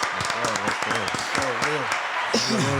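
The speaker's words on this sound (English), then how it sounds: "Let's give our sponsors a round of applause." A round of applause for sponsors at a live event in Tempe, Arizona, steady clapping running throughout under loud voices talking and cheering nearby.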